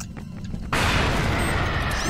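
A grenade goes off in a video game: a quiet lead-in, then a sudden loud boom that settles into sustained, dense noise and rumble until the end.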